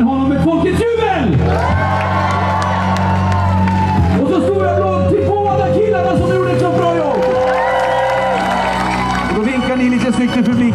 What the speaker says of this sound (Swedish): vi ger även honom ett folkets jubel!